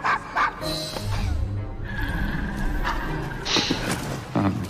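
In the video game Assassin's Creed Syndicate, a dog barks and yips in a few short bursts, moderately close, mixed with game sounds and ambient noise.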